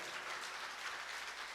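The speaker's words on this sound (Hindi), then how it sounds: "उन सब के लिए जोरदार ताली बजा दो" An audience claps loudly and steadily at a religious discourse, a dense, continuous round of applause from many hands with no voices over it.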